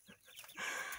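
Hens cluck in short bursts nearby, and the sound gets busier and louder toward the end.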